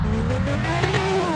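A car engine in the driving simulator game Dogan Simulator drones with a raspy exhaust note, steady pitch shifting slightly, loud and close, no talking.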